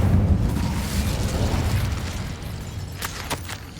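A fire spell cast in the video game Hogwarts Legacy, a dense rumbling whoosh of flame that fades over a few seconds, followed near the end by a handful of sharp crackling pops.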